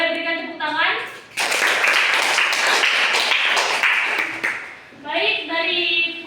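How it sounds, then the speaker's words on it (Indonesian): Classroom applause during a micro-teaching lesson, a burst of clapping from students that swells and fades between stretches of a teacher's talk. "Boleh berikan tepuk tangan."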